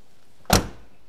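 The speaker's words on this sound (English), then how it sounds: "listen to these doors close." A heavy car door on a 1973 Mercury Marquis Brougham hardtop shuts once with a solid, close thud that decays quickly into quiet.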